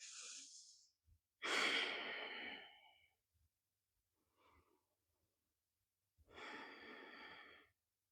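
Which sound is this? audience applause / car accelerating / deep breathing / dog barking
deep breathing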